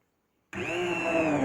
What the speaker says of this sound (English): I have an immersion blender.